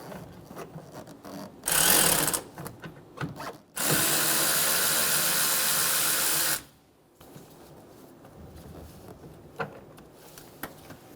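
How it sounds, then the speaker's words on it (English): Ratcheting socket wrench with a 10mm socket loosening bolts on the radiator fan shroud of a 2005-2015 Toyota Tacoma 2.7L four-cylinder, heard as two separate loud bursts of rapid mechanical clicking, a short one and then a longer steady one, with quiet handling noise between. "Using a 10mm socket, we're going to remove the 2 bolts for the radiator fan shroud"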